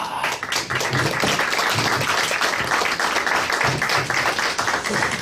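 Sustained applause from an audience at a Korean political party press conference, marking the entry of Vietnam War veterans into the Liberty Unification Party; dense steady clapping fills the room at even loudness throughout.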